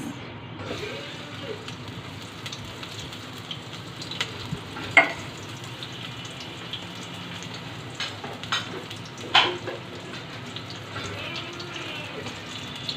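Onion fries in hot oil in a pan as magur fish with radish is cooked, making a low, even sizzle with occasional louder pops and stirring clatters.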